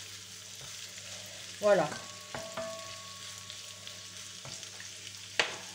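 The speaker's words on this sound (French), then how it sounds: "je vais mettre ma viande avec mon oignon. Et je mets ma viande côté peau." Meat frying skin-side down with onion for paella crackles in a pan, a low steady sizzle with a few brief louder stirring clinks and scrapes; a voice says a single word.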